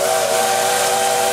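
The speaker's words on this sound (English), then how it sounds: "For others, it's the whistle." A steam locomotive whistle at Hesston sounds in one loud, sustained blast, steady and unbroken with a hissing edge, heard alone with no voices.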